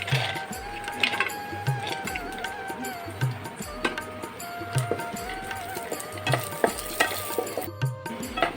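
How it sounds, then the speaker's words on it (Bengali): Peanuts and cashews frying together in a pan, a steady close sizzle with repeated stirring scrapes and clinks throughout, with no talking. "এখন আমি বাদাম আর কাজুগুলো ভেজে নেব আমি একসঙ্গে কাজুগুলো দিয়ে দিচ্ছি"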